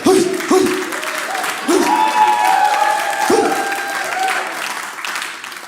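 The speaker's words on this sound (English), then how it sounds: "Don't clap too hard." A comedy club audience claps and cheers in a dense burst of applause while a comedian talks over it, the crowd noise holding fairly loud before easing slightly.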